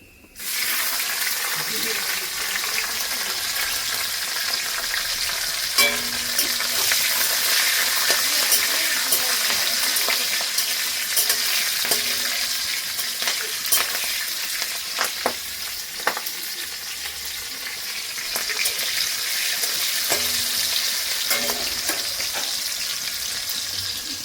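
Black cumin seeds and green chillies sizzle and crackle in hot oil in a home kitchen, a loud steady frying hiss with occasional stirring clicks, running continuously for a long stretch.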